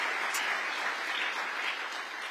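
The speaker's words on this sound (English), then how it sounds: "I would first of all like to ask you to give them another round of applause" Audience at a university gala applauding steadily, a dense even wash of clapping that holds throughout without fading.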